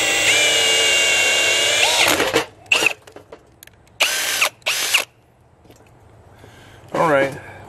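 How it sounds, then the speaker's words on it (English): A power drill bores holes in a cracked transmission case. A long steady whine is followed by several shorter bursts and stops, with quiet stretches in between, close and loud. "let's go ahead and mark where we're going to drill the holes"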